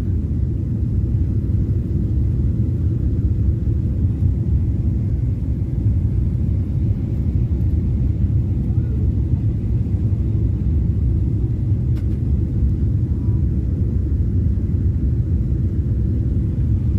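Deep, continuous airplane cabin rumble as a flight comes in to land at Dubai at night, steady and loud throughout with a dense low roar and no talking.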